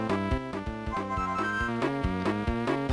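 Gold feather collection jingle from the Banjo-Kazooie: Grunty's Revenge game, a bright, bouncy run of tuned notes with a steady plucked rhythm, played clearly with no talk over it.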